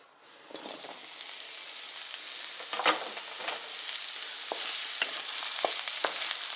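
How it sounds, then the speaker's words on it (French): Porcini mushrooms sear in a pan over very high heat, making a steady, dense sizzle with scattered crackles and pops throughout, close and continuous, with no voices. "Et là, c'est à feu très vif. Il va bien falloir les colorer."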